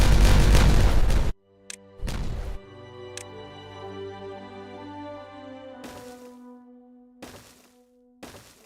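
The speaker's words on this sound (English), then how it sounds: "Detonate all of this." Detonations in the building game Timberborn: a loud, sustained blast rumbles first, then a second shorter boom follows, with softer bursts and lingering tonal game sounds afterward.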